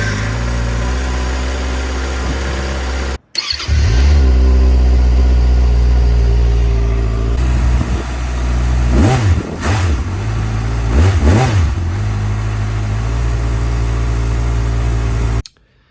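A 2025 Kawasaki ZX6R sport motorcycle engine with stock exhaust idles loudly up close, then is revved several times in sharp bursts, each rising and falling back to a steady idle.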